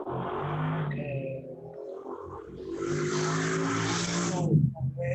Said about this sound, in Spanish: Pasó un auto justo